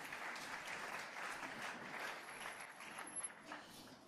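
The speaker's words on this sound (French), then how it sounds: "Acclamons la parole du Seigneur" A church congregation applauds together in a steady, dense clapping wash that stays even throughout, fairly distant and soft, with no speech over it.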